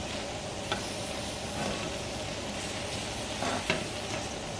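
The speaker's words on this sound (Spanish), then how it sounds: "Aquí estamos volteando la cebolla para que no se nos vaya a quemar." Sliced onion sizzles steadily in a frying pan while being stirred and turned for a salsa, a close, continuous crackle with a few soft scrapes of the utensil.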